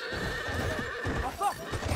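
Horse whinnies and hooves clip-clop in the Battlefield 1 video game, with a sharp neigh rising over steady galloping and battlefield noise.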